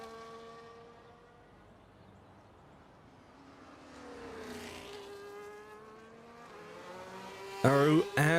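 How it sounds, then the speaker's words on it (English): Ferrari race cars in a sim racing game head out on an outlap, their engine notes rising and falling as distant tones, with a sharper, louder burst near the end. "Aru and the two Ferraris are out on track doing their outlap now."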